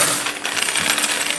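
Gold coins drop and jingle in a bright metallic shower, a dense cascade of clinks that stays loud from start to finish with no voices.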